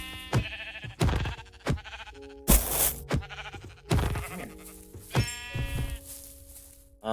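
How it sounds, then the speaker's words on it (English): Repeated sheep bleats from a Minecraft game with a custom sound pack sound close by, several short wavering calls spaced apart, mixed with sharp clicks and a brief burst of noise. "Sheep."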